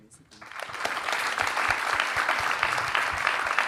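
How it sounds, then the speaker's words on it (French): An audience at a university debate event bursts into applause that swells within a second and holds as a dense, close, sustained clapping. "je vous applaudis déjà"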